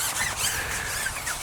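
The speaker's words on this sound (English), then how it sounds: "if you can hear a strange draining sound like a toddler" Squeaky, gurgling drain noise, like a toddler slurping through a straw, runs steadily in the background at a farm, a continuous wet squealing texture at moderate level.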